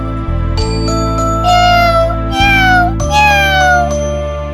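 A cartoon kitten meows several times in clear, loud, drawn-out cries, each rising then falling, over a soft sustained musical backdrop.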